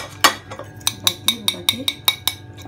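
A utensil stirs and beats a homemade aloe vera mixture in a bowl, making about a dozen quick, bright clinks in a steady rhythm, close and fairly loud.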